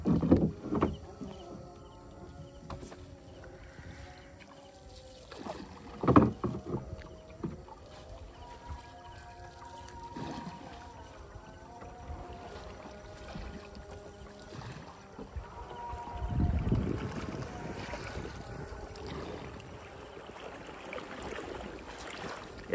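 A small wooden shalti boat is poled through shallow water, giving soft intermittent splashes and knocks against a quiet outdoor background, with a louder sloshing surge near the end.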